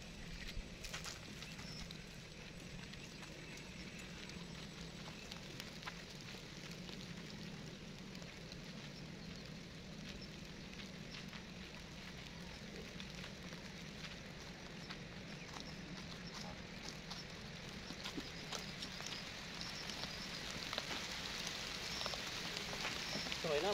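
Steady rain falls on an open farm field before a typhoon, a dense, even hiss that grows slightly heavier toward the end, with no talk over it.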